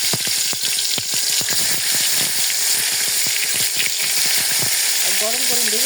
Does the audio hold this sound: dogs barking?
no